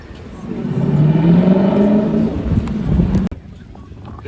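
A Lexus car drives past at a Tokyo street crossing, its engine noise swelling up close to a loud peak, then cutting off abruptly and leaving quieter street background.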